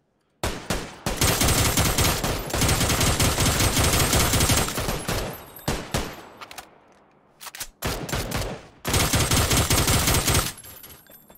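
Sustained automatic gunfire from a PUBG match, with long dense bursts of rapid shots separated by brief pauses, loud and close throughout, with no talking.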